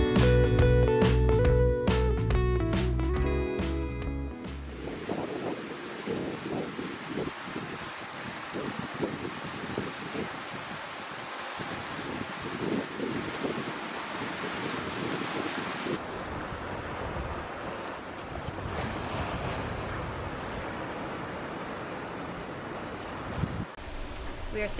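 Ocean waves and wind noise aboard a McConaughey 55 catamaran sailing at about 9 to 10 knots in Southeast Asia, a steady rushing wash of water and buffeting wind. Loud, irregular tonal sounds fill the first few seconds.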